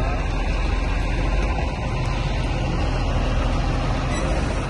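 A bus on the Moscow–Tashkent route idles and pulls away, a loud, steady diesel engine rumble with a brief dip midway, close by and continuous.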